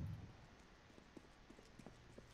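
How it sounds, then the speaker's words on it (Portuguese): Soft, faint video-game horse hoofbeats clop in a steady walking rhythm, distant and muffled, over a low background hum. "Olha aí o cavalo."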